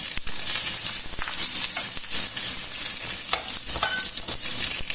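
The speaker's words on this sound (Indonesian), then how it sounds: "lalu kemudian menggoreng bawang putih dan bawang bombaynya" Garlic and onion frying in a pan after eggplant, a steady bright sizzle with occasional spatula scrapes and stirring clicks, loud and close, with no talking.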